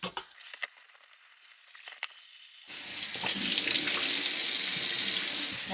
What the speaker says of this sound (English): if we run the water through the top of this filter, that'll push stuff out of here